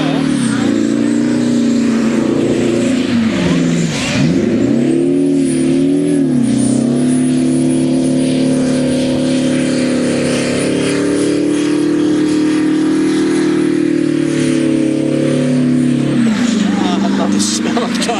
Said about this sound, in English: he's in there somewhere and he's doing donuts